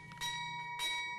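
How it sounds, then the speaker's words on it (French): A bell rung at a stock exchange in Côte d'Ivoire to announce the listing of two Treasury bonds gives two clear, ringing strikes with long sustained tones, no talk. "La cloche a sonné jeudi pour la 5e fois"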